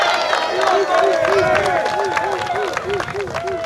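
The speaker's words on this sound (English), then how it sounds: "let's give it a round of applause for all of our volunteers" Crowd at the Pumpkin Fest 2021 press conference applauding the volunteers, a steady, fairly loud wash of clapping with cheering and crowd noise, while a voice with a repeating tonal pattern runs underneath.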